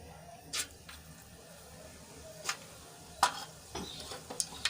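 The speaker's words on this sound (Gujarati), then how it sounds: "હવે આપણે રાઈ ફૂટી ગઈ છે" Mustard seeds pop in hot oil for a Gujarati potato curry, a faint low sizzle broken by a handful of sharp, scattered crackling pops at uneven intervals, close but quiet.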